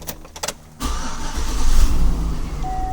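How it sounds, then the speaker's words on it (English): A 2003–2007 Chevrolet or GMC truck engine cranks after a few soft clicks and catches, settling into a rising, steady idle rumble close by under an OEM remote start. "We're going to go ahead and we're going to start the engine."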